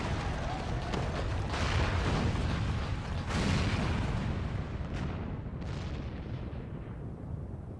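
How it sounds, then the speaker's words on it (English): Heavy booming blasts and a long rumbling crash, like cannon fire and a great tower collapsing in the Final Fantasy XIV game, rolling continuously and loudly with sharp surges near the start and middle before slowly fading. "The main tower just collapsed. You heard it too, didn't you? Must have been the cannon at Castor Mabania."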